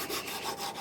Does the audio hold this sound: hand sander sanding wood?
yes